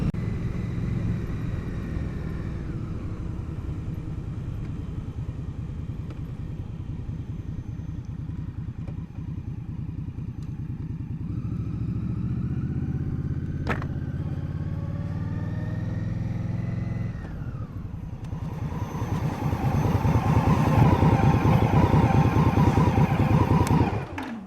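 A 2021 Indian Scout Bobber motorcycle rumbles steadily while being ridden, its engine note rising and falling with throttle changes and a louder, rougher surge near the end, with no talking.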